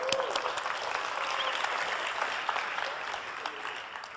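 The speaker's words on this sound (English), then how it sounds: "Give yourself a round of applause." Audience at a large sales seminar led by Jordan Belfort breaks into sustained applause, a dense, even roar of clapping from a big crowd lasting a few seconds with slight cheering.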